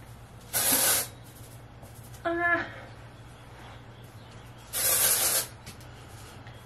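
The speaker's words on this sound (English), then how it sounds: "Now I am going to add some dry shampoo." An aerosol can of dry shampoo hisses in two sharp spray bursts about four seconds apart, close and loud, with a brief tonal squeak between them.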